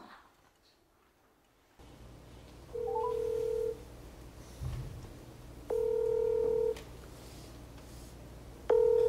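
Telephone dialing is followed by a repeating ringback tone, each long beep heard clearly with pauses between them, over a low steady hum.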